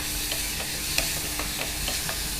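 Finely chopped onion frying in a pan, with steady sizzle and a few soft scraping stirs of a spoon, no talking.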